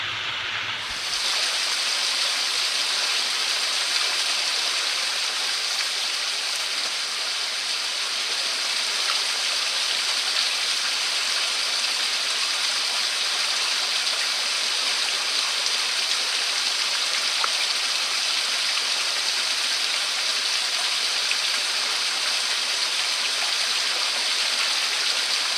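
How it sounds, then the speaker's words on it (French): A canyon waterfall and mountain stream pour steadily and loudly throughout, a dense unbroken roar of rushing water with no voices. "Très belle cascade de plus derrière moi,"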